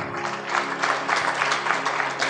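A congregation at a sermon claps in a quick, fairly even rhythm, a continuous run of close, moderately loud applause.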